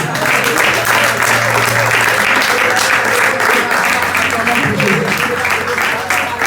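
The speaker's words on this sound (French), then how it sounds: "Est-ce que quelqu'un peut acclamer pour Jésus?" A Sunday church congregation claps and acclaims for Jesus, a dense sustained wash of applause and shouting voices filling the room at a constant loud level, with a low sustained tone running underneath.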